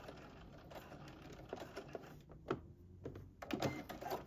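A sewing machine stitching the side seam of a sweatsuit waistband, with short quiet bursts of rapid needle chatter broken by pauses and back-stitching, faint and close.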